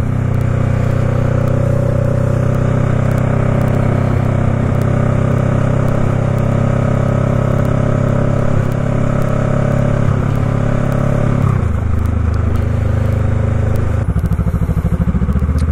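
Honda Rebel 500 motorcycle ridden and shifted through gears, a loud continuous engine roar with clattering and rushing wind, pitch dropping near the end as a gear change comes through.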